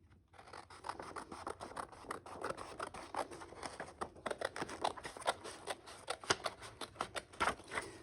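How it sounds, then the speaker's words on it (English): Scissors snip through paper along a traced line, a close, quiet run of crisp cuts in an uneven rhythm, with blade rasps and paper rustling between strokes over several seconds. "And then with my scissors, I would cut out on this line."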